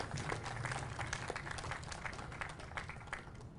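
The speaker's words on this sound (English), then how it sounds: "Round of applause for them for organizing all of that." Faint, distant applause fills a news conference room in Albuquerque, a soft continuous spatter of clapping from the audience with no voices standing out.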